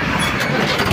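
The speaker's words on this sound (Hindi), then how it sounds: "अच्छा एक बार इसकी आवाज़ और सुनवा दो स्टार्ट करके" A Mahindra Arjun 605 tractor's diesel engine rumbles loudly and steadily up close, a short burst of heavy low-pitched running as it starts.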